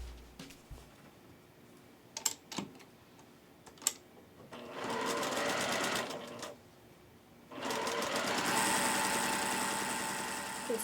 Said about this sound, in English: Sew with a 1/4 inch seam down the end.